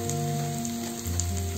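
Onions frying in oil in a pan for dal tadka, a dense even sizzle over a low steady hum, brief and unbroken with no stirring strokes or talk.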